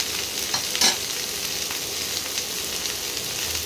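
Cauliflower and potatoes fry in oil tempered with whole spices, a steady broadband sizzle filling the short stretch, with a brief louder scrape of stirring near the start.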